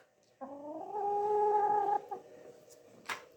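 A single drawn-out, wavering squawk from a hen, loud and close, followed by a few shorter clucks and a brief sharp noise.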